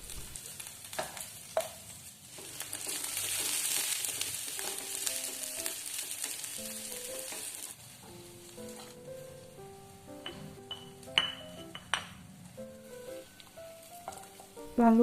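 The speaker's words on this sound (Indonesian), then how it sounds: "Minyaknya udah panas, lalu bawang merah bawang putihnya yang untuk sop kita masukkan, terus ditumis-tumis sebentar." Shallots and garlic sauté in hot oil with a steady, fairly quiet sizzle, punctuated by occasional stirring clinks and scrapes of a utensil against the pan.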